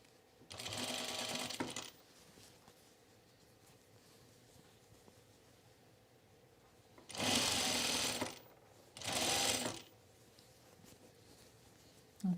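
A sewing machine runs a seam on a button-down shirt with no pins, stitching in three steady bursts, the first about a second long and the later two shorter, separated by quiet pauses.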